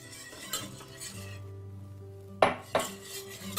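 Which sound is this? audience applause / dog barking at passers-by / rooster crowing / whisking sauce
whisking sauce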